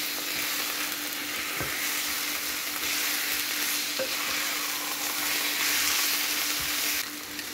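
A spoon stirs a pot of chicken tagine with pepper and turmeric while it cooks, giving an even, continuous hiss of sizzling under faint scraping, steady and close throughout.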